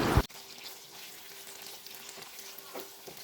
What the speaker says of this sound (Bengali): তেল গরম হয়ে গেছে, এবার চিকেনের টুকরোগুলো এক এক করে কড়াইয়ে দিয়ে দিচ্ছি